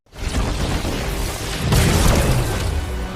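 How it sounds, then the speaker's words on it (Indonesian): A palace is blown up in the film Black Adam, a dense roaring explosion that swells suddenly and stays loud and rumbling, with a heavier burst partway through, no talk over it. "Dia meledakkan istana bersama raja dan pengikutnya."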